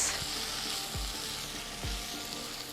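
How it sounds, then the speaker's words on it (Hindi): Spice masala for stuffed eggplant (bharwa baingan) frying in a pan crackles with a steady, close sizzle, with a couple of soft stirring knocks and no talking. "मसाले को थोड़ा पकाएंगे"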